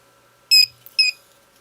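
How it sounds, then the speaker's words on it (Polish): A Chinese GPpointer pinpointer metal detector switching on with two short, sharp electronic beeps, close and clear against near silence. "Przyciskamy ten przycisk, załączy się lampka, wyda z siebie dźwięk."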